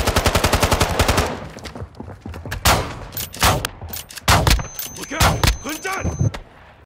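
Rapid automatic gunfire in the Call of Duty DMZ video game: a sustained machine-gun burst at the start, then scattered loud single shots and short volleys, with faint voice sounds among them.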